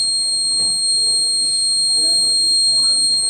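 A continuous high-pitched electric buzzer on a 230-volt relay alarm circuit drones steadily throughout, with faint background voices and room noise beneath it.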